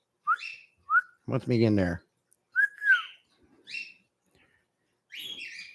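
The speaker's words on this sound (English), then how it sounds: "Now he's whistling at me." A pet bird whistles up close in short, clear rising and falling notes with pauses between them, and someone briefly speaks amid the whistles.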